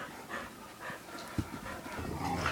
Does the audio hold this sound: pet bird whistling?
no